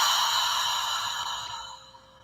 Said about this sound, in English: In breath. Open mouth, exhale.